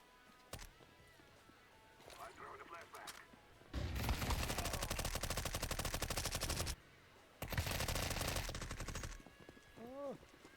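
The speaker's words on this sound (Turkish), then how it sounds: "Ben adama sıkıyorum adam da bana sıkıyor." Automatic and rapid gunfire in the video game Counter-Strike 2, with two long loud bursts and a few shorter shots, and people talking faintly between the volleys.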